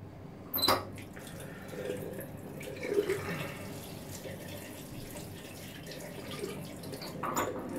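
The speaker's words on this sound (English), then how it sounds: "As you can see, I'm constantly rinsing the blade." Tap water running at a sink while a razor blade is rinsed during a head shave, a faint steady trickle and splash with a few louder clinks and drips.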